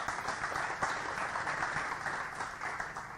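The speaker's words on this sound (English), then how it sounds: "please some applause for Tony from Contextio" Steady, dense applause from a tech conference audience welcoming a speaker, continuous clapping throughout at an even level.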